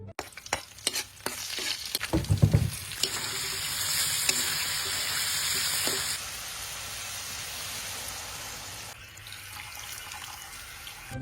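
Adobo with lemongrass cooks in a pan, with stirring, clattering utensils and a steady sizzle of frying, then running water near the end; no talking.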